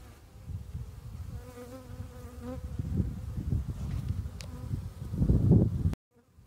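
Honey bees buzz continuously around a beehive during a spring hive check, a dense close drone with rustling and handling noise that swells louder near the end before cutting off.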